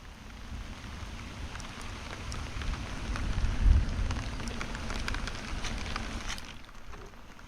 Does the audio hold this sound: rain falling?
yes